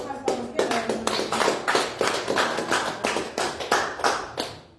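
A church congregation claps hands in a brisk, regular rhythm, each sharp clap distinct and close, continuing steadily for several seconds.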